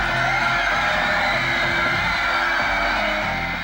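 A crowd of fans screams and yells continuously at an airport as the Beatles arrive, a loud, dense, sustained wall of shrieking voices with no pause.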